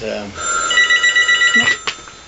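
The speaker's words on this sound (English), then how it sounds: "phone's ringing." A telephone rings close by in a home, a rapid electronic warble pulsing in a short burst, with a voice speaking over it.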